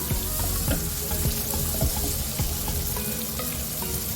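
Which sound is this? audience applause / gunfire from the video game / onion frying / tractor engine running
onion frying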